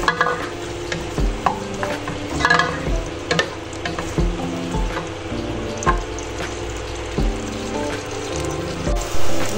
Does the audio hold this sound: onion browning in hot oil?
yes